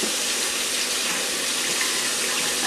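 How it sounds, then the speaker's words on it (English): Running tap water streams steadily over carrots held in a small strainer, a continuous close splashing rush with no talk. "Then we are ready to wash the carrots."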